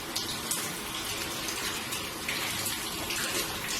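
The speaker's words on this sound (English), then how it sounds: "Just going to rinse my face." Tap water runs steadily at a bathroom sink during a morning skincare routine, a constant close gushing rush with slight shifts in flow and no talking.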